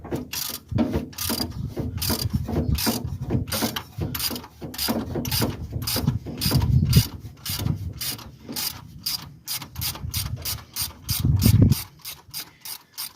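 Rapid clicking of a ratchet wrench working bolts loose on a Dodge D200 truck, bursts of ratcheting strokes with brief pauses, the clicks growing cleaner and more evenly spaced toward the end, close and moderately loud.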